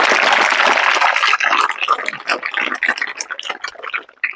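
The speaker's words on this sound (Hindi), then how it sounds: "इनके लिए ताली बजाओ" Children clapping for a child in a classroom gathering, a burst of applause that starts dense and loud, then thins into scattered, uneven claps before fading out.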